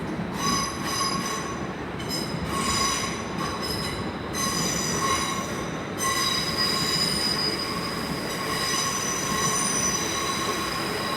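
Unit 360-201, a terminating service from Heathrow Terminal 4, pulls into London Paddington with loud, sustained high-pitched wheel squeal over rolling rumble, the shrieking tones wavering and briefly breaking before continuing steadily.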